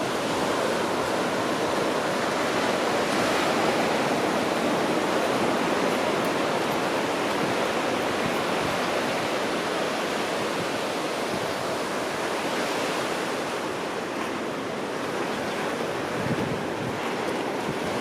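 Steady ocean surf washing onto the beach at Mazatlán on a summer morning, a broad continuous roar of breaking waves with light wind noise, loud and unbroken throughout, no voices.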